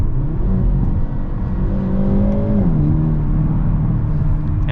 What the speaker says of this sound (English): The sound from the exhaust is just so good.